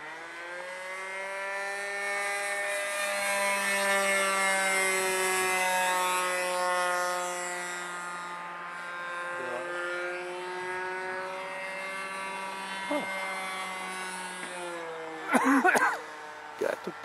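A trainer-type RC model airplane engine screams at full throttle, a steady loud high-pitched whine with rich harmonics holding for many seconds, dipping slightly mid-way, then a few clattering bumps near the end.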